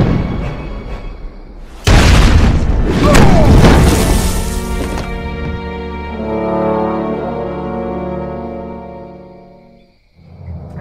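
A video game explosion in Lost: Via Domus: a sudden loud explosive boom with crashing debris, followed by a long ringing, droning tail that slowly fades before cutting out.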